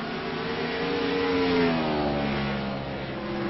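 Race cars, including a powerful number 8 car, accelerating through the chicanes at Sonoma Speedway; a sustained mid-pitched engine roar rising and falling in pitch, fairly close, with no voices.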